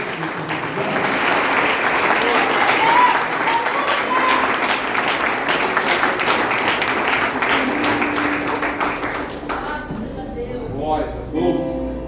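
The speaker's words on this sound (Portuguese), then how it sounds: "Você deu uma salva de palmas para Jesus" A church congregation at a worship service gives a long, dense round of applause, loud and steady, with voices and a musical tone rising beneath it as the clapping thins near the end.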